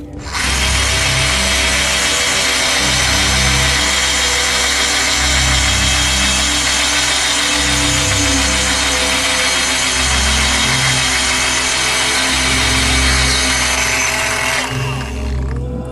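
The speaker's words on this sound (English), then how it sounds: "let me get both holes drilled" A power drill bores bolt holes through a round part on an RC 1946 Dodge Power Wagon wrecker, a loud unbroken motor whine running close and steady before stopping abruptly.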